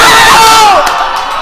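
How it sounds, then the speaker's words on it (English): Loud crowd at a video game tournament cheering and shouting together, a dense roar with whoops that holds strong and eases slightly toward the end. "the crowd is cheering for the red buff"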